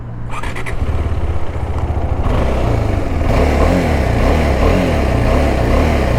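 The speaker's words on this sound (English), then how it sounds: "I'll make you hear the exhaust." A KTM Adventure 390 motorcycle engine rumbles steadily while riding on a highway, its exhaust note loud and close, with revving swells partway through.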